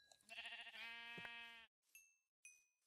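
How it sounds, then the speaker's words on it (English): Sheep in Minecraft bleat twice, loud and close, with a long wavering call followed by two shorter bleats after brief gaps, with no talking over them. "Ooh, there's some sheep."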